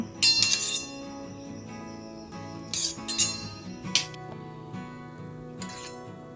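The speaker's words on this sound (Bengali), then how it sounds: "চামচ দিয়ে অল্প অল্প করে নিয়ে আমি ভালো করে ভিজিয়ে নেব।" A metal spoon clinks against a glass or bowl while bread slices soak in a beaten egg mixture during breakfast cooking, with several sharp, bright taps in irregular bursts separated by quieter handling noise.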